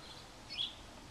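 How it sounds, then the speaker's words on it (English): A single faint, high bird chirp rises briefly out of quiet outdoor air on a freezing, sunny day. "Birds are chirping, though."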